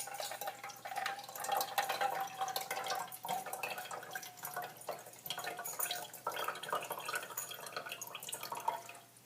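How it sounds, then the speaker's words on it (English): Juice drains from a can of beans into a sink in a steady trickle with irregular splashes and drips for several seconds, close and fairly quiet, with no talk. "I drain the juice off of it"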